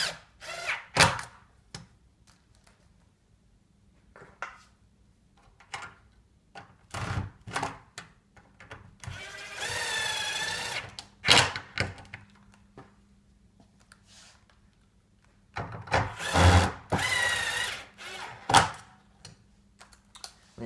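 A power drill drives screws into a metal gate housing in two clear bursts of whirring, each followed by short clanks and handling clicks, with quiet pauses between.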